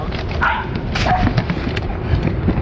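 A dog barks a few times amid rustling background noise, the barks short and mid-distance over a busy outdoor hum.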